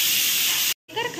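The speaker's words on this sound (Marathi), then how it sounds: "शिट्टी" A stovetop pressure cooker with rice inside lets off steam through its whistle. A loud, harsh hiss blasts for most of a second, cuts off abruptly, and a brief voice follows.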